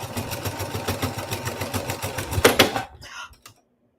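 A sewing machine quilts a baby blanket with rapid, rhythmic stitching close by, ending in a sharp clack before stopping abruptly into near silence.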